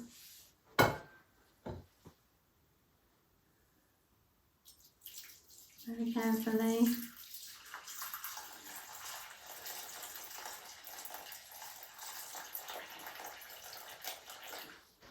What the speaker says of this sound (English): So we'll just put some water.